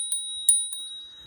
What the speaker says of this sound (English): It also comes with a little bell